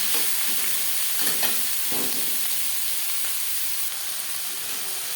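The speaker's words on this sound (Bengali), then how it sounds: "পেঁয়াজ টমেটো হালকা করে ভেজে নেব" Onions and tomatoes fry in a pan for a chicken and potato curry, giving a continuous close sizzle with a few scraping strokes of stirring and no talk.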